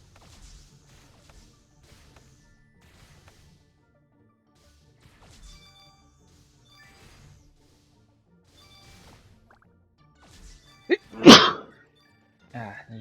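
A short, sharp sneeze from a character in the kids' video game Ryan's Rescue Squad, one loud burst near the end following quiet game sounds.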